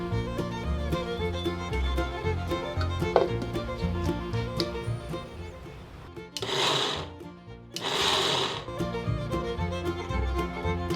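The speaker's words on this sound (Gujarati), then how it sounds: "હવે આપણે છે ને આ લોટને આમાં ક્રશ કરી લઈશું." A kitchen mixer grinder crushes flour for ladoo in two short, loud whirring bursts separated by a brief pause, rising above steady background music.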